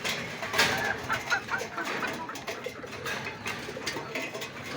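Young pet pigeons crowd around at feeding time, a busy close chorus of cooing and fluttering with pecking and scuffling throughout, no voices.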